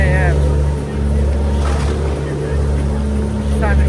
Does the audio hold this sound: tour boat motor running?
yes